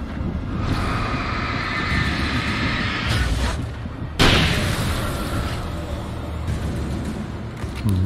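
Loud Alan Wake combat noise with rumbling blasts and bursts of shots, including a sharp sudden boom midway over a continuous roaring background.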